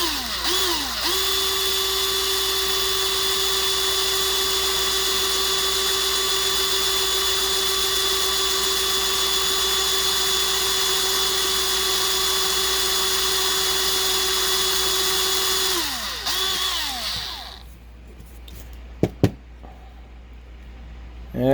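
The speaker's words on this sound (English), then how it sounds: "hopefully it'll just drill right down." A power drill bores down into a hole oiled with a drop of oil, giving a steady, loud, high whine for about sixteen seconds before spinning down and stopping, followed by a few faint knocks.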